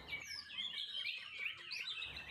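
A white-rumped shama on a competition hanging pole gives a soft, continuous run of chirps and warbling notes, faint and alone against quiet background hiss.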